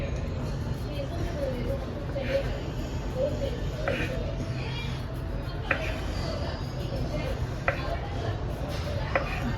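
A knife slices a baked mango rava cake into pieces, giving soft, widely spaced cutting taps over a steady, noisy room background.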